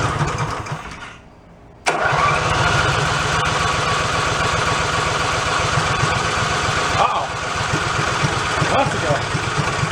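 Big go-kart engine at an amusement park catches abruptly after a brief quiet lull and settles into a loud, steady, throbbing run close by, with a slight dip in its pulse partway through.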